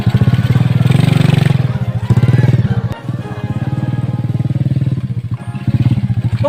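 A motorcycle engine runs loud and close with a rough, pulsing idle and throttle surges, briefly dipping before picking up again, with clattering mechanical noise throughout.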